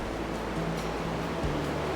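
Steady broadband rush of river water flowing beneath a bridge in an autumn landscape, continuous and fairly loud, with a faint low hum running underneath and no speech.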